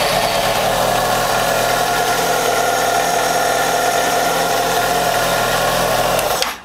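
A Yamaha FX6 600cc engine, powered by a lithium-ion starter battery, runs loud and steady close by for several seconds before cutting off abruptly at the end.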